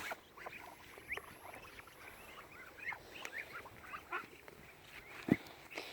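Faint, scattered quacks from mixed-breed ducks sound over a low background hum, with one louder call near the end.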